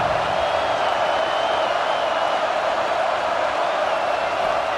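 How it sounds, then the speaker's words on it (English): A video game college football stadium crowd from Georgia vs Oklahoma cheers on a third down, a loud, unbroken roar of massed voices holding steady throughout with no distinct talk over it. "Decibels rising as the crowd gets behind this defense on 3rd down."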